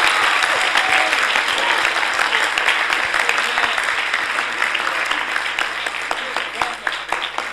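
A church congregation at a Sunday service claps together in sustained, dense applause that fills the room and holds steady, easing slightly toward the end.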